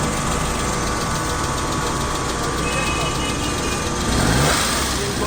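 A 1998 Suzuki Khyber engine, just after an oil change, runs at a loud steady idle up close, rising briefly near the end.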